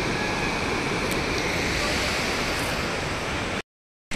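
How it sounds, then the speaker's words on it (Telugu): Water released from a river barrage rushes in a loud, steady roar close by in the evening, a dense continuous wash of noise that cuts off abruptly near the end. "అంత బ్యారేజ్ వాటర్ అంటే ఇక్కడ ఇటే వదులుతారు"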